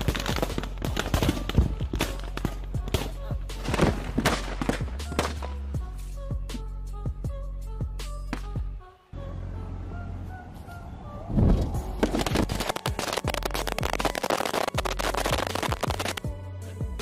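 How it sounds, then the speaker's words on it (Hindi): Thousands of small pop-pop firecrackers crackle inside a car in a dense, loud barrage of sharp snaps, pausing briefly before another thick burst of rapid popping. "सबसे पहले सभी पटाखों को खोलकर पूरी गाड़ी में फैला दिया।"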